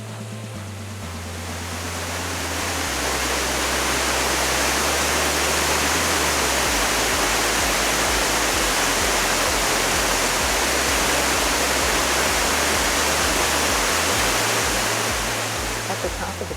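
Sabado Falls along the Kancamagus Highway in the White Mountains of New Hampshire pours in a loud, steady broadband roar that rises in over a couple of seconds and holds constant, with faint low thumps underneath.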